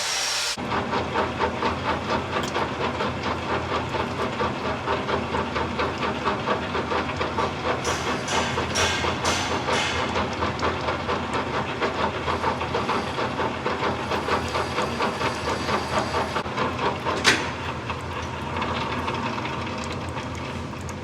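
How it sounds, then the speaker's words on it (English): A lathe with a boring bar takes a light trim cut while making custom radius dies for a roll bender, a steady hissing, rattling machine drone that runs throughout with one brief click near the end. "I'm just gonna take a little trim cut"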